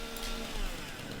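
A chainsaw trimming trees in a farming simulator game, a steady buzzing engine whine held at low level without pause, no talking.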